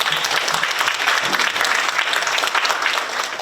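Sustained, dense applause from an audience at the inaugural ceremony of a San Francisco council for peaceful Korean unification, steady and full for several seconds before easing slightly at the end.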